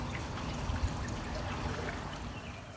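Water trickles steadily from a small leak in a Coleman above-ground pool patched with Gorilla water tape, a soft continuous dribbling wash close by with no talk.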